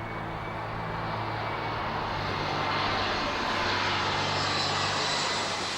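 Several airliners circle in a holding pattern above a busy airport, their engines droning as a loud, steady, continuous roar that fills the air without a break.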